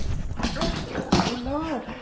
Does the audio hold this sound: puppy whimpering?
yes